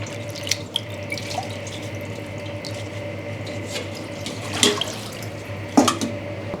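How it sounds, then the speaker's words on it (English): Tap water runs steadily into a sink while wild betel leaves are rinsed, with a few brief splashes and drips standing out near the end; no one speaks. "then you wash the leaf."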